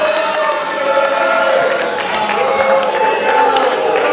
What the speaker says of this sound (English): Oh, even we're going to clap up here.